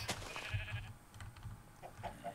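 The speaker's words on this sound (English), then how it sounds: "You'll see that sheep is trying to get out pretty severely right now." A few short sheep bleats from a video game, with a slightly synthetic quality, fairly close, over a low background hum and faint clicking.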